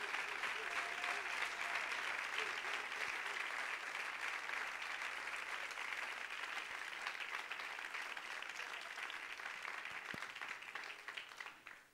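A congregation at a Mother's Day church service applauds a mother and first lady with sustained, dense clapping that holds steady for about twelve seconds before tapering off at the end.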